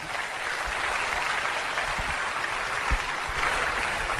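An audience at a business motivational seminar applauds to welcome a woman to the stage, a dense, steady wash of clapping that holds evenly throughout.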